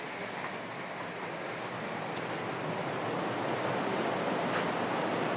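Rainwater streams flood through a yard near greenhouses during a downpour, making a steady, dense rushing hiss that grows slightly louder and continues without a break.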